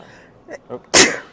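A single loud sneeze close by, preceded by a couple of short sharp intakes of breath.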